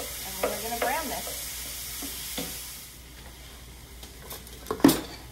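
Lean ground meat, 96% lean or better such as bison, browning in a pan with steady sizzling and scraping stirs, a few utensil knocks and a sharper clatter near the end.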